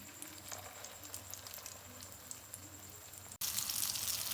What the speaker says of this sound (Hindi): अब मैं मिलती हूँ आपको कबाब फ्राई करने के बाद।